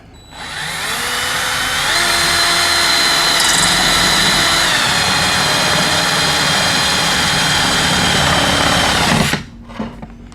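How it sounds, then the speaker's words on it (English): A power drill with a 5/8 inch bit whirs steadily for several seconds drilling a hole in plastic, its pitch shifting slightly as it bites, then winds down and stops abruptly. "just pick a corner, drill your hole"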